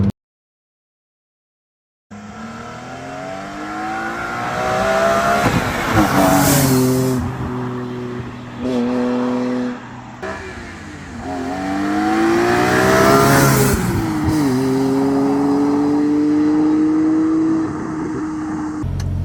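A BMW E46 M3 with a rare aftermarket intake revs hard and accelerates on a country road, heard from outside as it approaches: loud rising engine howls, a brief drop between gear pulls, then another climbing surge.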